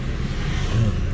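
A car engine hums low and steady as the clutch is let out and the accelerator pressed gently during a beginner's driving lesson, a brief, moderately loud rumble heard from inside the car.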